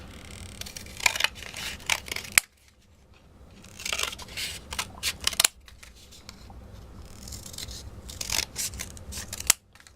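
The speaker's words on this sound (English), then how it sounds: "And then I cut those out." Scissors snip and slice through paper in quick crisp bursts, close up, with two short pauses between the runs of cutting.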